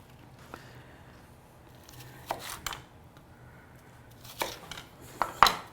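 Knife strokes cutting through a yellow sweet onion on a board, a few soft crunchy slices spaced apart, close and fairly quiet.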